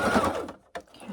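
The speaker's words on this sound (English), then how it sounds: "we're going to back stitch, and then we're just going to stitch straight across" A sewing machine stitches straight across the bottom edge of a quilted dish mat, a steady close mechanical whir that stops briefly and then starts again.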